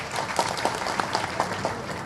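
An audience applauds after a political speech at a BJP gathering, a thin scattered patter of clapping heard at a modest distance, continuous but not loud.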